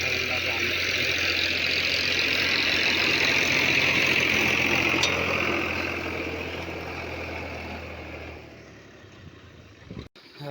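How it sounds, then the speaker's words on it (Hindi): A tractor engine runs steadily nearby, loud at first, then fading gradually as it winds down, ending with a brief knock. "यहाँ पर ट्रैक्टर चल रहा है फल लगाने के लिए।"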